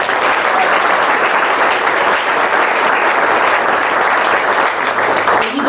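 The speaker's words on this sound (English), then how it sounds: "Would you guys please give them a round of applause?" A large audience breaks into a loud, steady round of applause at a groundbreaking ceremony for an innovation studio, dense clapping holding at full strength throughout before easing slightly at the very end.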